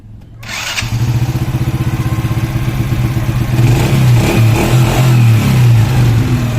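A motorcycle engine fitted with a battery-operated CDI ignition fires up after brief silence, settling into a loud, close, rapid idle and then revving higher with a rough, pulsing throb.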